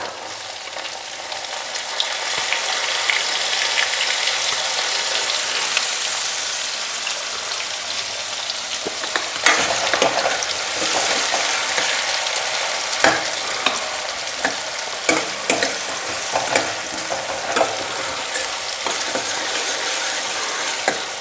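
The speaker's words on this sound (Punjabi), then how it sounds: "ਪਿਆਜ਼ਾਂ ਨੂੰ ਆਪਾਂ ਚੰਗੀ ਤਰ੍ਹਾਂ ਭੁੰਨ ਲਵਾਂਗੇ" Two medium onions frying in a pan with cumin for a Punjabi-style green moong dal, a loud steady hiss of sizzling oil punctuated by sharp spatula scrapes and clicks in the second half, close up, with no talking.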